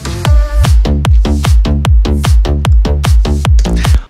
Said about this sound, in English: Now drums and bass together will sound like this.